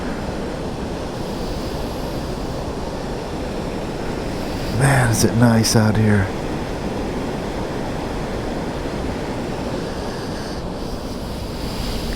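Roaring water fills the scene with a steady broadband rush from outdoors, constant and fairly loud throughout, while someone speaks briefly over it.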